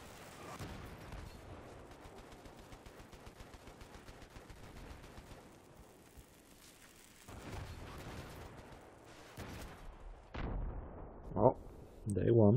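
Video game gunfire pops in scattered bursts at moderate distance, growing louder and sharper toward the end with a few close hard shots.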